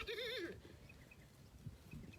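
A goat bleats once in a quick wavering cry at a small farm, close and clear, followed by soft rustling and faint chirps with no talking.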